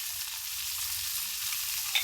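Adobo stirs in a frying pan, a steady soft sizzle with a faint low rumble beneath, continuous and fairly quiet at close range.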